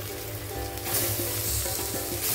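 Chicken pieces sizzle loudly in a pan with fried ginger and green chili, producing a dense, continuous crackling hiss that swells as the pieces go in, close up with no talk.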